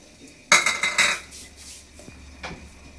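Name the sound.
stirring salt while heating it in a pan for roasting peanuts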